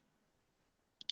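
Two quick, sharp computer mouse clicks near the end of a near-silent stretch, close and crisp, with no talking.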